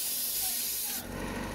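An air-assisted airless paint sprayer with a round nozzle and air cap sprays windows, a loud, steady broadband hiss that drops slightly in level partway through and runs on without pause.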